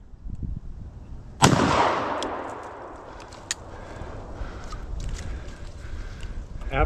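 A single loud 12 gauge shotgun blast from an Ithaca Super Single fired at deer while hunting outdoors, a sharp crack followed by a long fading rumble, with faint ambient noise before and after.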